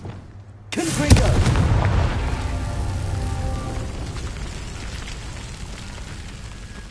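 A Confringo spell detonates in a video game with a sudden loud blast, then a long rumbling, crackling decay that slowly fades over several seconds.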